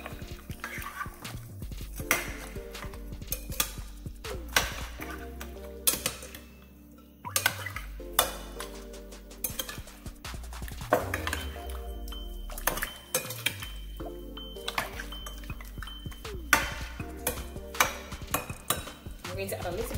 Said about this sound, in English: I'm now going to give this a nice little mix.